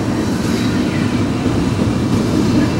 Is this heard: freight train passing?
yes